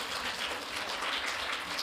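An audience at a governance forum gives steady, dense applause, a continuous wash of many hands clapping at moderate distance without a break through its short span.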